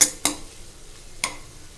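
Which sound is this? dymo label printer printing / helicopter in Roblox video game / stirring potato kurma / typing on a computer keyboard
stirring potato kurma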